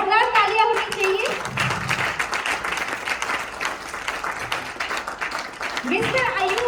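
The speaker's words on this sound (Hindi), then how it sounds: "जोरदार तालियां होनी चाहिए।" An office audience at a welcome event bursts into applause for a senior leader, a dense stretch of clapping with voices and cheers mixed in, while a presenter's voice is heard before and after.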